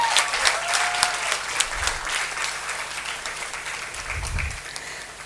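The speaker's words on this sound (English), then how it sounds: "So please have a round of applause." Audience applause at an annual prize distribution ceremony, a crowd clapping steadily at close range and slowly fading across a few seconds, with a faint low thump partway through.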